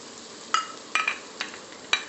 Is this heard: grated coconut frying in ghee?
yes